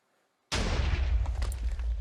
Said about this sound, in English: makes like pretty cool explosions with that